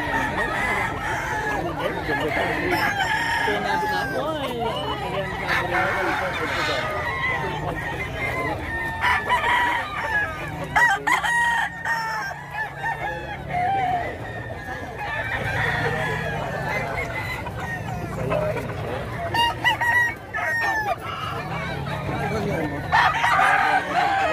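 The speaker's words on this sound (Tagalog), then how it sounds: "Medyo maganda ang tayo ng mga manok dito." Fighting cocks at a farm in Bocaue, Bulacan crow repeatedly, with several loud cock-a-doodle-doos overlapping from different distances and clucking in between, while someone speaks now and then.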